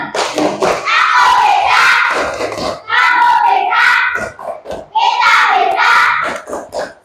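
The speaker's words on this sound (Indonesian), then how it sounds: "Sekarang tepuk semangat." Schoolchildren in an Indonesian elementary classroom perform a tepuk semangat spirit chant, their voices calling out in rhythm while hands clap along in sharp bursts, loud and close, with a short pause near the middle.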